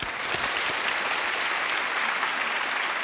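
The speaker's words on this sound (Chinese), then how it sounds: "我们接下来掌声欢迎这场英文演讲" An audience breaks into applause for an English speech on a televised job-hunting show: dense, even clapping from a large crowd, sustained and loud for the full three seconds with no voices.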